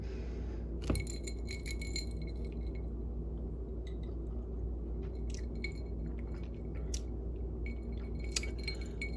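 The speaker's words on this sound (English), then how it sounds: "13 stirs to perfection." Ice and spoon clinking in a glass as a smoked cinnamon old fashioned cocktail is stirred, giving a steady run of light chinks and rattles over a low background hum.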